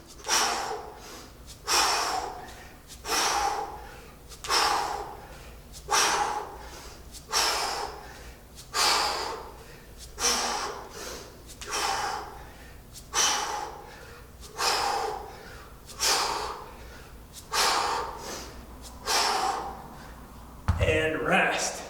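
Heavy, rhythmic breathing after a set of kettlebell swings, about a dozen loud, close exhales and inhales at a steady pace with no talking.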